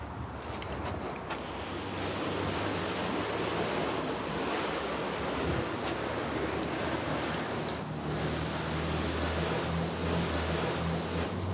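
Water rinse spraying across a car panel, a dense continuous hissing splash with a brief break near the end, close and steady without voices.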